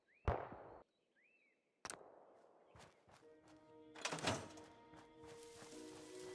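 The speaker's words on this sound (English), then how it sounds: "Somebody's shooting." Muffled gunshots sound in Fallout 4 amid thuds and clatter: a few sharp, separate bangs spaced over several seconds, then a denser burst of rattling noise near the end, with no voices.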